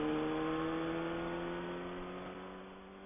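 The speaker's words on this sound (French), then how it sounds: "là je vais mettre, voilà, 3500, j'accélère à fond." A Honda 600 Hornet motorcycle engine is opened to full throttle from around 3500 rpm, producing a steady, fairly quiet tonal drone that fades gradually over a few seconds.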